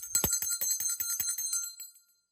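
A bright metal bell rings in a rapid series of struck strokes, the ringing tones fading out over about two seconds.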